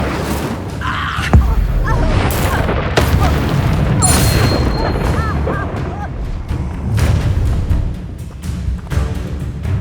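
Incendio fire spell cast in combat in Hogwarts Legacy, a loud booming burst amid dense battle effects and thumps, with speech layered over the action.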